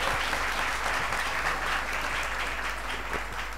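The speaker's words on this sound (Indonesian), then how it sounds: "Oke, tepuk tangan dong buat." A school audience claps for a student at a youth expression event, dense continuous applause filling the room at even strength from start to end, with a low hum beneath.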